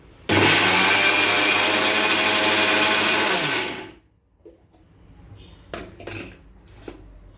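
A mixer grinder runs loud and steady for about three and a half seconds, grinding ridge gourd and bottle gourd pickle ingredients with coriander and soaked tamarind, then cuts off, leaving a few light clinks and knocks.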